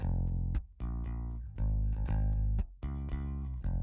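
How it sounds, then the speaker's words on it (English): A Fender Jazz bass recorded direct into an interface with no amp processing plays a riff of separated, sustained low notes, clean and close, with short gaps between phrases. "I just recorded the Fender Jazz bass just direct into the interface"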